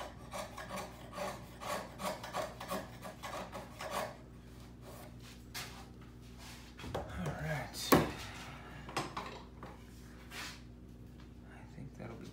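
A hand chisel cleans waste from the corner of a mortise in wood, giving a run of close, repeated scraping and rasping strokes with a sharper knock near the end.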